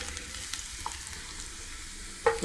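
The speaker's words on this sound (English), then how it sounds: "the oil and our garlic. Just slightly sauteed about 30-40 seconds to give it that garlic flavor" Garlic sautés in oil in a pan, a soft, even sizzle that carries on quietly, with faint clicks of stirring and a slightly louder scrape at the end.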